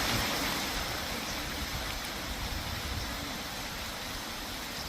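Hilton Creek Falls in Georgia rushes in a steady, loud broadband roar on a rainy day, continuous and unbroken with no voices.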